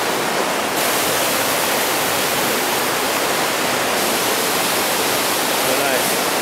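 Water rushes steadily in Yosemite National Park, a loud, unbroken roar that fills the whole stretch without letting up.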